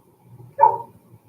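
A single short bark from a puppy, moderately close in a quiet indoor room during a crafting session, with faint background rustle and no speech.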